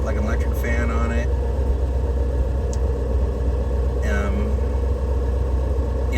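A 1971 Scout engine fitted with Holley Sniper fuel injection idles steadily after a cold start, a continuous low rumble close by with faint intermittent squeaks on top.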